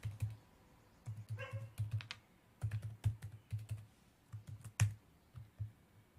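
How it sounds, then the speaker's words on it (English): Computer keyboard keys tapped in short irregular bursts, someone entering a password, with a dog barking briefly in the background; no talking. "I typed in the wrong password. Let's try that again."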